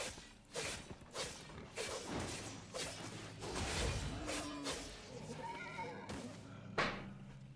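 A Gallant horse in the video game Albion Online gives snorting neighs and whinnies among soft whooshes and light hoof thumps, fairly faint and intermittent.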